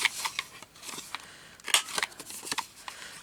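Scissors snip through paper for a pocket booklet, giving a quick uneven run of crisp close cuts and paper rustles.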